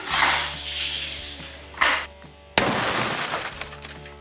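A toy Hot Wheels car crashes into a group of toy soldiers, giving two sharp, clattering bursts close by, the second followed by a sustained rattle of tumbling plastic pieces.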